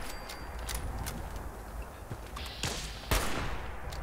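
Gunfire in the video game Fallout 76 comes as faint, scattered shots and short bursts over a low background hum, with one louder crack near the end and no talk.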